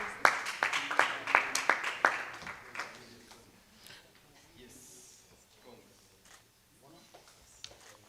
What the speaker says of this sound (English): they are clapping for the next person